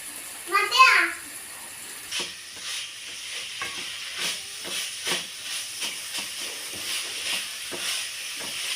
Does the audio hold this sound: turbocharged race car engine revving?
no